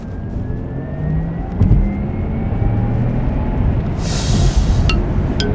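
Porsche Taycan 4S electric car pulling away hard from a launch start, a steady broadband rush of motor whine, tyre and wind noise building under a faint rising electric tone, with a brighter hiss near the end.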